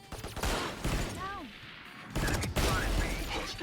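Gunfire in a first-person video game as a full magazine is emptied, in two rapid bursts of shots with a short gap between them, loud and near, with some voice in between.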